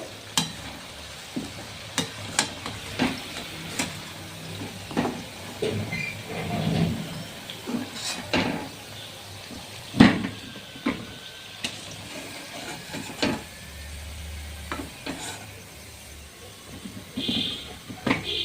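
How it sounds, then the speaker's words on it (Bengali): Thekua, a sweet wheat-flour snack, deep-fries in hot oil with a steady, close bubbling sizzle, broken throughout by sharp clinks and scrapes of a utensil stirring and lifting the pieces. "এইভাবেই সবগুলো আমি ভেজে নেব।"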